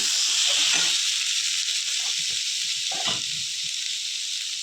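Potatoes, pointed gourd and eggs fry in a pan with a loud, steady sizzle and hiss, with occasional soft stirring or scraping underneath.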